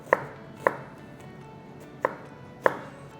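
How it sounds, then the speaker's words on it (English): Knife chopping food into a small dice on a cutting board: four sharp, close knocks at irregular spacing over a quiet room background, with no talking. "we're just gonna do like a little small dice on this"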